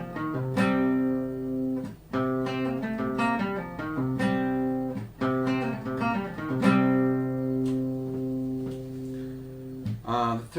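An electric guitar plays the first and second sections of a riff in a lesson setting. Clean, close picked notes and double-stops come in a repeating rhythmic pattern with short pauses between phrases.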